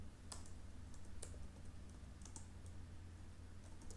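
Typing on a computer keyboard while setting up a web app, heard as sparse, quiet key clicks in small clusters over a low steady room hum, with no talking.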